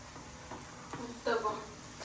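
Mixed vegetable uttapam fries on a hot pan with a quiet, steady sizzle. A faint voice briefly rises above it.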